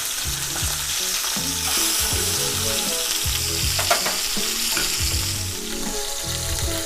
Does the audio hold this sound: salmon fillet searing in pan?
yes